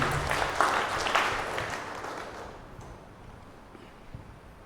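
A church retreat audience claps in thanks to the Lord, a broad wash of applause that starts strong and gradually fades to a faint patter, with no clear speech.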